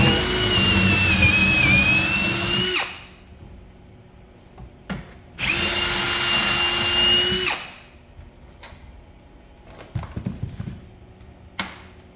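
A power drill bores a hole through metal for a handmade sign in two loud, steady bursts, each about three seconds long, separated by pauses. Light clanks and taps of handling follow in the gaps.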